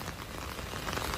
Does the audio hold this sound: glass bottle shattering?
no